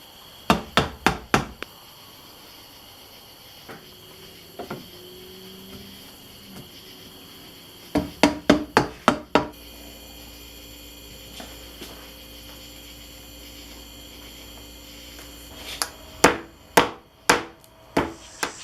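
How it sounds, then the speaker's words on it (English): A rubber mallet taps on freshly cemented potato gun pipe fittings in three quick bursts of four or five sharp knocks, with quiet pauses between the bursts and near the end. "We are going to use a rubber mallet to make sure everything's in all the way"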